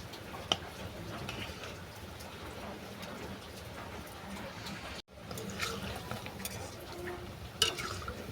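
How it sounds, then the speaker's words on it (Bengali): Banana stem pakoras fry in hot mustard and soybean oil, a steady close sizzle and crackle running throughout with a few sharp clicks and a brief break near the middle. "তেল গরম হয়ে গেছে, এরপর পকোড়াগুলো আমি ভেজে নেব।"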